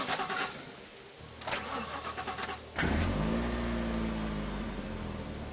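A car in the zombie video game The Last Stand Aftermath starts up, then its engine rumbles and idles steadily, loud and close, with no talking over it.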